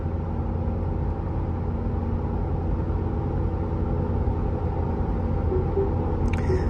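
Ford Tremor truck cruising at 61 mph, with a constant broadband tire and road roar inside the cabin, steady and fairly loud with no talking.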